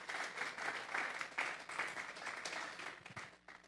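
A church congregation at a Sunday service gives a dense, sustained round of applause that sounds faint and distant and tapers off near the end.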